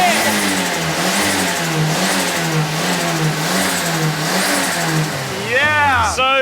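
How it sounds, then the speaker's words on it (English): A turbocharged Toyota Yaris fitted with a Corolla engine and a cheap eBay turbo kit runs loud and close, its engine revving in repeated rising and falling pulls with an excited voice breaking in at the end. "at least we can see whether it's going to make the turbo noises that we want"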